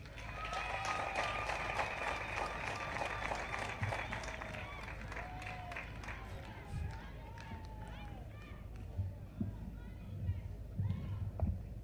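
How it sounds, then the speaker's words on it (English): An audience of youth at a presidential rally in Gulu, Uganda, claps and cheers in a sustained, busy burst that gradually thins out, with a voice over a loudspeaker speaking throughout. "The youth of Uganda, can you clap better than that?"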